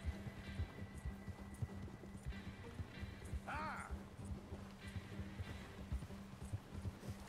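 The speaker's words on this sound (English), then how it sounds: "vamos a ver cómo funciona esto del caballo" Horse hooves clip-clop at a steady walking rhythm in the video game Red Dead Redemption 2, quiet and continuous, with a brief whinny partway through and soft game ambience underneath.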